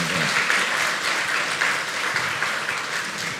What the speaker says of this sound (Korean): 우리 담임 목사님과 사모님께 감사의 박수 드리겠습니다